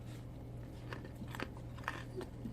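Broccoli is chopped into small pieces, a quiet series of crisp cuts and crunches scattered over a steady low background hum, with no talk.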